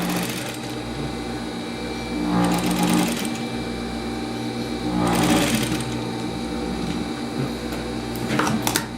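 A sewing machine stitches fabric for a dress in close, fast runs, with louder bursts of whirring between brief slower stretches. No one speaks.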